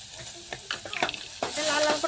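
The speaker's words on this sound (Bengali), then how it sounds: "এটা লাল লাল করে ভেজে নেবো।" Chopped onions with garlic and a dried red chili frying in hot oil, with scraping stir strokes at first, then a steady close sizzle taking over.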